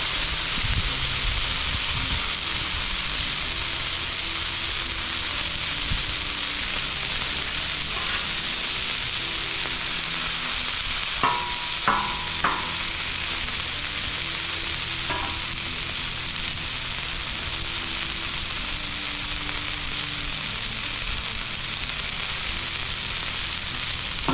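Steak bites fry on a hot griddle with a constant, loud crackling sizzle as the fat renders, broken by a few brief scraping clinks of a spatula midway.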